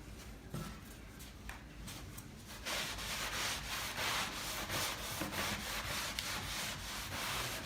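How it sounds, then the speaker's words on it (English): A rag rubs back and forth across a freshly stained wood floor, making soft, steady swishing strokes. The rubbing is quiet and close, and it grows a little louder halfway through. "I take the other rag here and I wipe it off"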